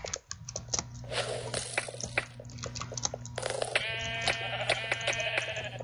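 Sheep in the Minecraft video game bleat repeatedly in short, loud calls, several overlapping near one another, with soft squishy game effects and patter underneath.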